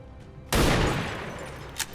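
Sniper rifle shot at a sectoid in the video game XCOM 2, a single sudden loud blast with a long decaying rumbling tail, followed by a brief faint click.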